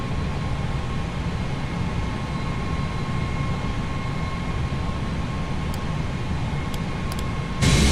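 Airliner engines roar steadily during a night takeoff from Hong Kong International Airport in Microsoft Flight Simulator 2020, a loud dense rumble with a faint steady whine, and a brief burst near the end.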